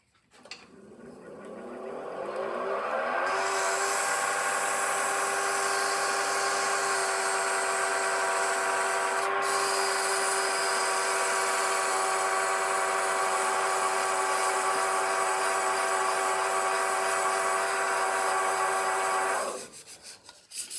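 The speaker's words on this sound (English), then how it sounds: "The reason I stop and sand this way is just to help hide scratch marks with the grain of the wood." A wooden pen blank spinning on a lathe is sanded through progressively finer grits, making a steady, close rubbing hum over the turning motor that ramps up, holds for about sixteen seconds, then stops, with no talking.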